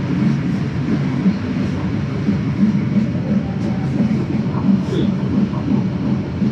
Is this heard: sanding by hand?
no